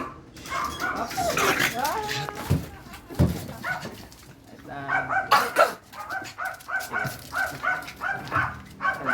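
An 8-year-old dachshund with a history of aggression yips and barks in short, repeated bursts, mixed with whimpers, while people talk nearby throughout.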